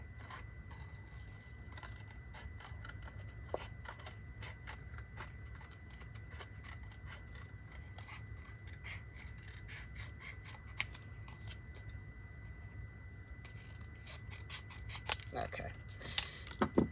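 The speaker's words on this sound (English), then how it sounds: "I'm just going to do a little fussy cutting here" Scissors make small, repeated snips while fussy cutting scrapbook paper, a quiet, steady patter of short clicks over a faint hum, with a few sharper snips near the end.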